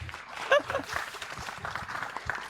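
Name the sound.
applause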